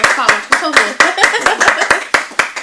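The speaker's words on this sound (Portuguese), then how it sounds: "Posso pedir palmas? Palmas," Audience clapping in a Portuguese-language talk show studio, a steady run of sharp claps with an excited voice speaking over it.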